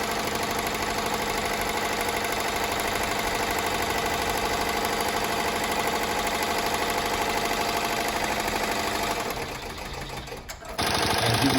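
Embroidery machine laying down a satin stitch for a chenille letterman jacket patch, a fast, even mechanical whir and rapid needle clatter up close, pausing briefly near the end before starting again.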